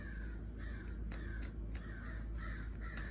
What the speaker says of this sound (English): It's like the sound of their crowing is interfering with my signal to my...